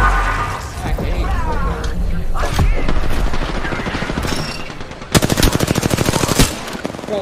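Enemy gunfire rattles in a shooter video game as rapid automatic bursts, loud and close, including a dense, sharp volley near the end, under a voice talking.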